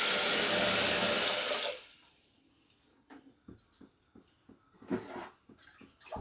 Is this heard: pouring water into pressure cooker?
yes